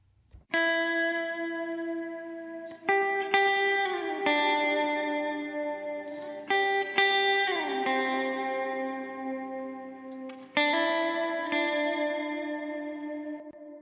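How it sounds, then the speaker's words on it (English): Electric guitar playing sustained chords with a lush, echoing reverb tail, several strummed changes ringing out loud and smooth, no voices. "we'll listen to what the guitar track sounds like now"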